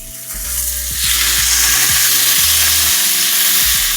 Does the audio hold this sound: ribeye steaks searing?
yes